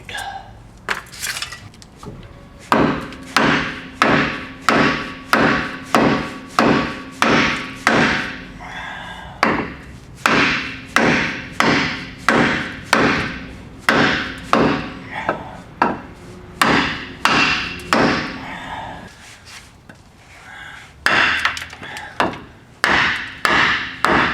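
Hammer blows strike a wood block during differential removal on a Dodge 3500 pickup, landing loud and close in a steady rhythm of sharp, ringing knocks, roughly one per second, with a couple of brief pauses.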